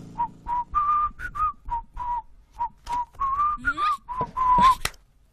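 A person whistles a bright, bouncy tune in short repeated phrases with brief pauses between notes, clear and fairly close, with no talking over it.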